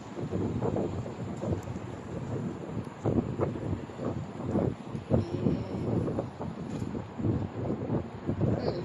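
Gusty wind buffeting a microphone, with low rumbling thumps and roaring bursts that come and go throughout.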